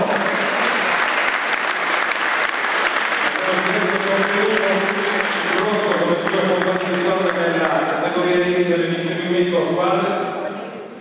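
Audience applause fills an Italian honors ceremony for athletes, sustained and loud from start to finish, with a voice speaking over the clapping midway before the ovation fades at the end.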